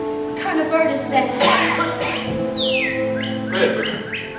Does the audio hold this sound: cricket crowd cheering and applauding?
no